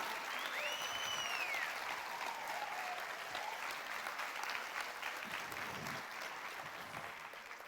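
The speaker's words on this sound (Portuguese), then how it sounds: "Dê um aplauso ao Senhor." Church congregation applauding continuously, a dense steady clapping wash that slowly fades toward the end, with no talk over it.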